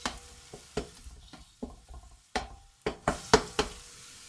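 Spoon stirring chicken curry in a pan, a series of close knocks and scrapes against the metal in an irregular rhythm over a faint sizzle.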